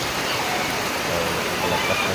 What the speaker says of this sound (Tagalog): ito na ang pinakalakas na ulan